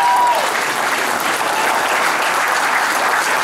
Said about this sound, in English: How about a big round of applause for Jerry?